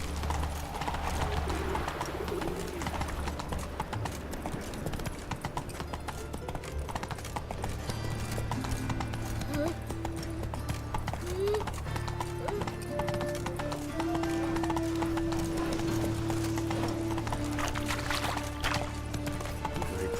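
Geralt's horse Roach gallops in The Witcher 3, a steady clip-clop of hooves running under game music with a brief whinny, continuous and fairly close throughout.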